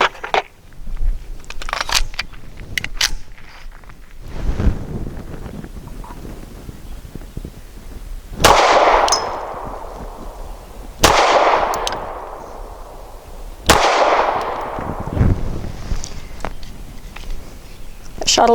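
An Archon Type B pistol fires Blazer 115 grain aluminum-case rounds outdoors, with three sharp, loud shots spaced a few seconds apart, each trailing a rumbling echo, amid wind noise and scattered distant gunfire.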